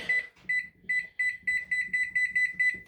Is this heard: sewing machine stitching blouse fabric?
no